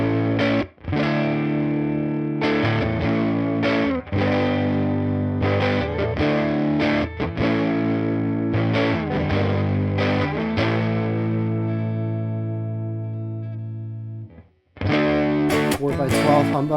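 Distorted electric guitar chords through a UAD Woodrow '55 amp plugin ring out with a roomy reverb tail, strummed in bursts with short gaps, one long sustained chord fading before a final hit.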